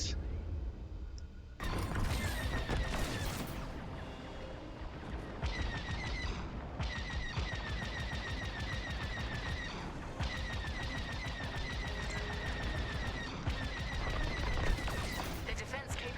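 Star Wars: Squadrons starfighter firing on turrets: dense, continuous bursts of blaster fire and explosions with game music and radio chatter underneath.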